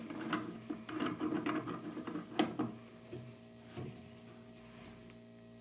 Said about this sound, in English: Let's put the clamp on. So let's clamp something.